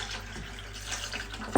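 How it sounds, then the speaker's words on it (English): Tap water runs into a saucepan of potatoes being rinsed to wash off starch, a steady broad splashing stream close by that swells with a sharper burst at the very end. "We're just going to rinse this a couple of times to get rid of the starch."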